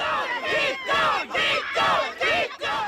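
A crowd gathered at a memorial protest on Crittenden Drive where flowers and art mark the spot, voices rising and falling in loud, chant-like surges that repeat in waves of about half a second.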